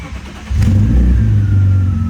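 BMW M3 engine idling smoothly, then revving up from a low rumble into a louder, steady mid-pitched drone, close and alone.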